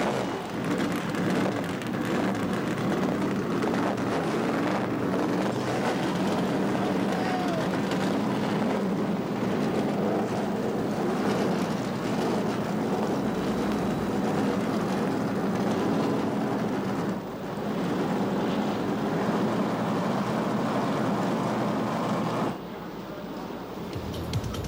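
A field of stock car engines fires up and roars at the start of the 1990 Daytona 500, a loud, dense, continuous rumble that holds steady for about twenty seconds before easing slightly near the end.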